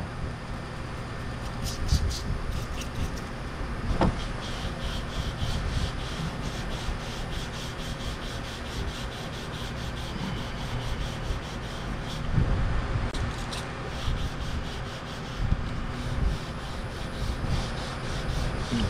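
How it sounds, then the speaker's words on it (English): Continuous scratchy sanding against car bodywork, steady back-and-forth rasping with occasional louder strokes, close up and without talking. "I don't want a wide sanding pattern."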